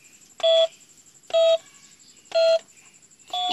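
On a toy phone, number keys 1, 2 and 3 are pressed in turn, each giving a short electronic beep tone at regular intervals, with a fourth starting at the end, close and clear over faint background hiss.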